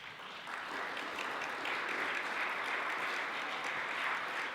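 Audience applause for panel speakers at a progressive political conference, a steady wash of many hands clapping at a distance, fairly faint, building slightly and holding even throughout with no talk.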